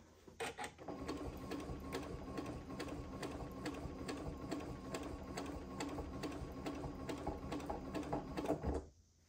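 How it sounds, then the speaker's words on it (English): A sewing machine stitches through quilt fabric on a scrappy cathedral windows block, a fast steady mechanical chatter of rapid rhythmic needle strokes lasting several seconds before stopping abruptly. "now I have just stitched through this frame piece right here"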